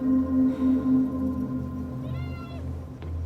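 A cat meows in the video game Caravan SandWitch, a drawn-out mewing call rising over a steady ambient game hum and tones, fairly clear against the background.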